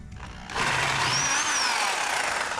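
A power tool cuts off an old drive part during a chain conversion on a late-model Harley-Davidson Dyna motorcycle, a loud, steady, harsh grinding whine that starts abruptly and runs continuously without talk.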